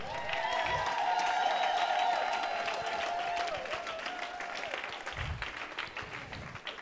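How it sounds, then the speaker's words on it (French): A church congregation bursts into loud, sustained applause that slowly thins into scattered claps, with a high tone ringing over it early on. "Acclamez bien."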